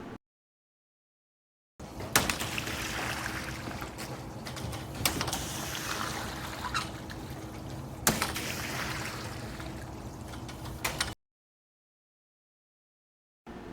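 Water is swept off a swimming pool's winter cover toward a drain, a soft continuous swishing and trickling with a few sharper scrapes, heard alone between stretches of silence.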